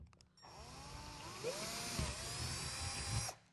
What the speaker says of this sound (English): Drill through it as well.